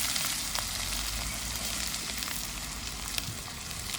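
Onions sizzle and crackle in hot oil in a pan, a steady dense frying hiss with small pops, close and fairly quiet, no voices.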